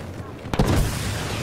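A tank cannon fires once in Star Wars Battlefront 2 multiplayer, a sharp booming blast with a short rumbling tail, heard close and loud over background game noise.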